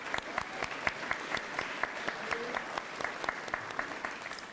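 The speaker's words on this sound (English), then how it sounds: "Let's give a round of applause for our PIN Award winners." Audience applause at an 8th grade promotion ceremony for award winners, a steady wash of many hands clapping at moderate distance, sustained evenly without talk.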